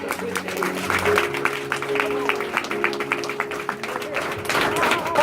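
A church congregation claps steadily over sustained organ or keyboard chords, the applause continuous and fairly loud, with some voices mixed in.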